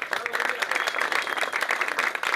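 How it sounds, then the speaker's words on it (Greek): A crowd applauds the winners at a trail ride motorcycle awards ceremony, with dense, steady clapping that carries on throughout. "Να συγχαρούμε τους νικητές και να χειροκροτήσουμε όλοι όλους σας"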